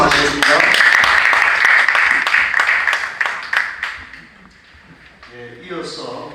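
An audience applauds after a presenter finishes at a church theology committee public hearing; dense clapping fills the first few seconds, then thins and fades into scattered claps and room noise.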